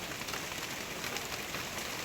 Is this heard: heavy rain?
yes